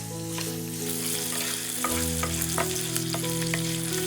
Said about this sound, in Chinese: 放入五花肉煸炒到表面焦黄出油，再放入冰糖炒出糖色